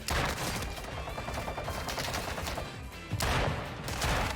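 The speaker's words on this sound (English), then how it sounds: "Had to time those shots out a little." Rapid automatic gunfire in the video game Warzone rattles in sustained loud bursts, a dense stream of shots with a brief lull and renewed heavier volleys near the end.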